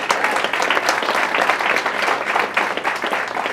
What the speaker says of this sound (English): Give another round of applause for Jenna.